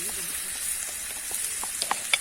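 Minced meat frying in a pan with onion and garlic, a steady soft sizzle with a few sharper crackles and pops toward the end.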